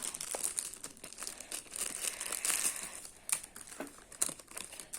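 Plastic packaging around red toy gun caps is opened up close, with loud irregular crinkling and crackling plus a few sharp snaps and tears over several seconds.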